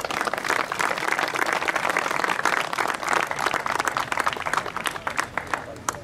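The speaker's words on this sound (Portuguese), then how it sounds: "E para vocês agora uma grande salva de palmas." An audience applauds at a car rally prize ceremony, steady dense clapping from a crowd lasting throughout, fairly loud and close, with no speech over it.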